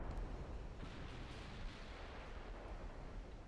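Distant warship guns firing during a naval battle in Ultimate Admiral Dreadnoughts, a continuous low rumbling of overlapping artillery booms, steady and muffled, with no voices.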